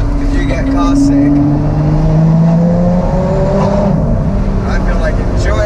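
Lotus Exige Sport 380 cruising on the road, its engine a steady, continuous drone with shifting tones and tyre rumble throughout, with a person talking over it.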